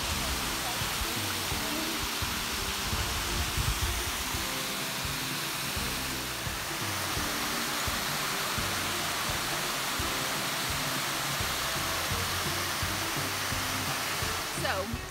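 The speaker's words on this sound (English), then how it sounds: "while we have this beautiful waterfall" A beautiful waterfall seen on a hike pours in a loud, unbroken rushing roar, broadband and steady throughout, with no voices heard over the falling water.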